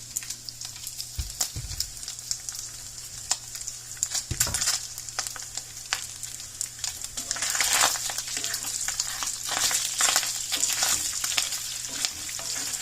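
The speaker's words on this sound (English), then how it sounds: "Bacon's getting good. Starting to get crispy." Bacon crisps in a pan, a dense continuous sizzle and crackle with occasional stirring clatters and scrapes, the frying swelling louder in the second half.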